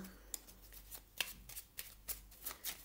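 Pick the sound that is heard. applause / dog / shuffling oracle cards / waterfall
shuffling oracle cards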